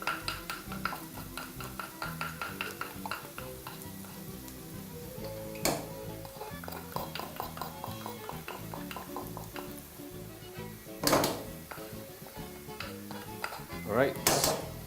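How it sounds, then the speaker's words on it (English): A spoon scrapes and clinks around a cooking pot as spices for beef biryani are stirred, with soft sizzling underneath and a few louder metallic knocks. "very, very important that you actually be stirring your pot while you continue"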